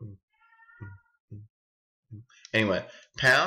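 A cat meows twice indoors in the background, one short call and then a louder, drawn-out meow, while someone speaks in brief phrases between them.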